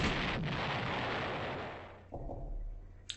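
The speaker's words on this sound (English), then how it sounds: "a camo pillbox. Did you see it before it started shooting?" A camouflaged pillbox opens fire in a video game, a loud sustained roar of heavy gunfire and blasts that fades, then a fresh burst and a sharp pop at the end.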